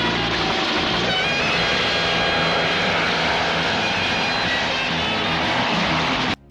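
Loud, continuous roar of a helicopter engine overhead, a steady droning whir that cuts off abruptly at the end.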